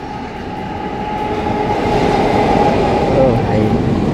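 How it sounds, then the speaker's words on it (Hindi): A large passenger train rumbles past close by in the morning on a Raipur–Bilaspur line, a loud steady roar with rail rumble and faint squeals building over four seconds, no talk over it. "सुबह सुबह मस्त ट्रेन भी दिख गया मेरे को, काफ़ी बड़ा है।"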